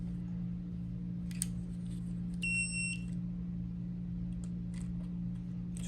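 Gevey Pro SIM unlock dongle for an iPhone gives a short, thin electronic beep partway through, heard once against a steady low electrical hum with faint clicks around it.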